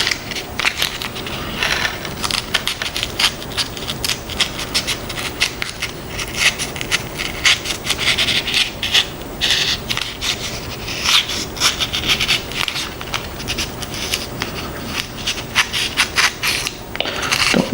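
A knife sawing back and forth through foam board with hot glue seams while bevel-cutting the edges of an FT Mini Zero model plane, a steady close scratchy crunching that continues throughout.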